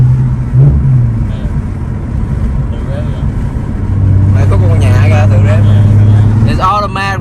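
Nissan 370Z with a six-speed, after a no-start, idles loudly up close and its engine hum rises on its own, while people talk nearby.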